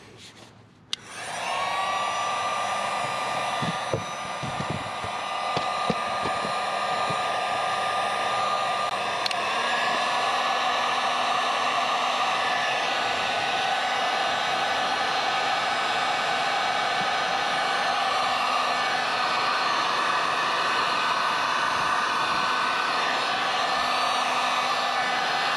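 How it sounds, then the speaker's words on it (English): A heat gun blows steadily for about 25 seconds, warming solder connectors on a trailer tail light wiring repair; a loud, continuous whooshing roar with no speech over it. "Now I'm just gonna use the heat gun."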